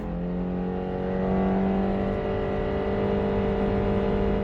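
A 2023 Subaru Impreza engine strains under hard acceleration, its droning pitch climbing steadily, loud and close, with a buzzy, somewhat thin, lawnmower-like tone.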